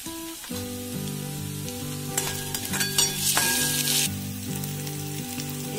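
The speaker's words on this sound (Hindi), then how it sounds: "इसमें हम अब गार्लिक पेस्ट डालते हैं और थोड़ा सा नमक डालते हैं ताकि ये प्याज जल्दी हो जाए।" Chopped onions sizzle steadily in a pan with garlic paste and salt for dhaba-style bhindi masala, with a few stirring scrapes, close and continuous, under music and no speech.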